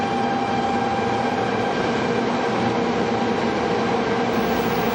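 A train rumbles steadily at a railway station, a continuous loud roll of wheels and carriage noise with no voices over it.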